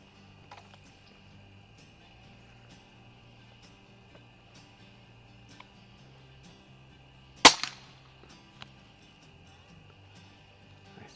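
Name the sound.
air rifle shots at a splatter target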